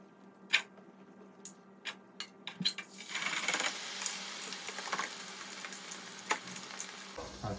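Homemade French fries frying in hot oil in batches: a few sharp, scattered clicks and pops, then a steady, fairly loud bubbling sizzle that swells and holds to the end, with no talk.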